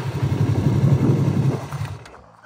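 A motorcycle engine pulls hard through first into second gear on a road ride, a loud, close, steady rumble that fades away near the end.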